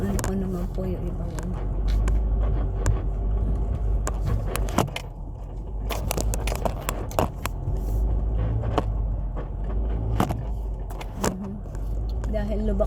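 A car rolls slowly over a bumpy, potholed grassy track, its engine rumbling steadily throughout while the body rattles and clunks with sharp knocks at irregular intervals; people talk over it.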